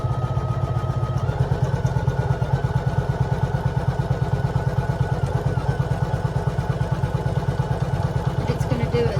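An embroidery machine stitches a Valentine XOXO design with a side split bow, a rapid, steady mechanical clatter that repeats evenly and loudly throughout, with a brief shift near the start.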